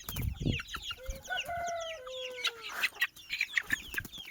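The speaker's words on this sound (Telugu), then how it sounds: "కోడిపిల్ల చూసారు ఎలా ఉందా." A young chick clucks and peeps in a series of short, bright calls, with a few longer tonal notes in the middle, close by and with no talk.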